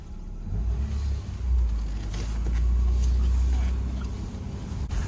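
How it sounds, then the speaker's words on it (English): A Mercedes-Benz 190E decelerating in first gear, a low steady engine drone with a slight swell midway, heard from inside the car with faint background noise. "I'm gonna try to show you that sound it makes in first when you decelerate"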